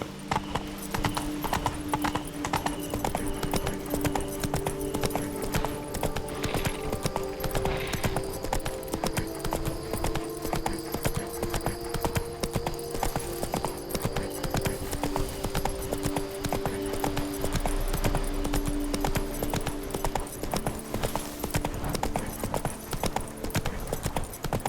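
Horse galloping in the video game The Witcher 3, a continuous rapid clip-clop of hooves throughout, close and steady, with an occasional faint whinny.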